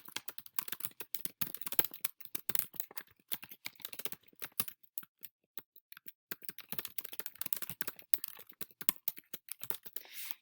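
Fast, continuous typing on a computer keyboard, dense clattering keystrokes close up with a brief slower patch midway, no voices.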